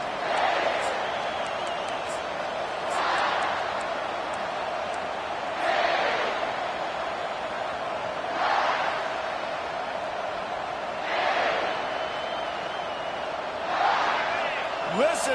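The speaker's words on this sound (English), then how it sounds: "Listen to this crowd just shaking the girders of this place, trying to help their defense." Large football stadium crowd roaring steadily in the distance, a sustained wash of cheering with repeated surges of louder noise every few seconds, under commentary voices.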